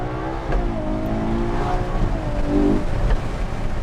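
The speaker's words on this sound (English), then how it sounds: "it literally sounds like an Italian symphony" A Ferrari 812 GTS with its V12 engine revs close by, rising and falling in several smooth, high-pitched surges with a sharp tonal edge over a rumbling base.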